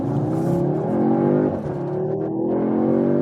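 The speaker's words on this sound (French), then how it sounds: "surtout maintenant lors de l'accélération à partir de l'arrêt" A 2024 Audi S3 facelift accelerates from a stop, its engine note climbing steadily in a loud, continuous rising hum heard from inside the car.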